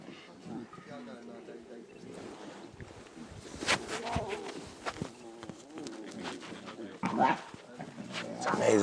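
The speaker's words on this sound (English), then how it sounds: "It's amazing how much they sound like adults when they growl." Young wild animals growling on a sunrise safari drive, with low rough growls and scuffling that come and go at close range over about nine seconds, and a faint dog-like bark in the mix.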